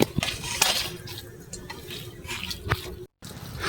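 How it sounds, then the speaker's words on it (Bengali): A spoon scrapes and clinks against a bowl while egg is mixed into pakora batter, with wet squishing and irregular sharp knocks of utensil on the bowl, close and fairly quiet. "আমি এই ডিমটা পকোড়া করার জন্য যে বাটারটা করেছি তার মধ্যে মেখে নেব"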